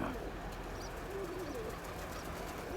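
Soft, repeated cooing of a domestic pigeon, low and rolling, a few calls over a quiet outdoor background.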